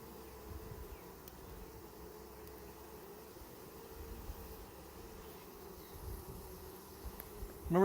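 Soft, steady buzzing of many honey bees at the hive fills the background, a continuous low hum with a brief louder rustle at the end.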